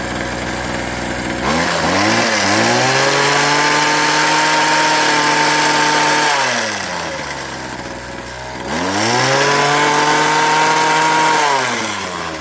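A Craftsman 21cc two-stroke hedge trimmer engine revs up twice, the pitch climbing, holding high, then dropping back toward idle between revs. Loud and close.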